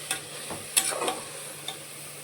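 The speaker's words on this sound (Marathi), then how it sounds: "मशरूम हे थोडंसं वाटणमध्ये मिक्स करून घेऊया" A few scrapes and clinks of a spoon stirring mushrooms into a masala paste in a pan, over a low steady sizzle.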